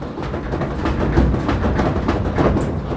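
An unbalanced Amana washing machine in spin mode gives a heavy, steady rumbling with rhythmic knocking, thumping and shaking against the floor, loud and close throughout.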